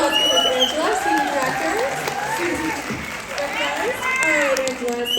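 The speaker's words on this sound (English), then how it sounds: "Let's give a round of applause for Miss Angela" Applause and cheering from an audience at a women's panel event for a student director, a dense, continuous wash of clapping with excited voices and chatter layered on top throughout.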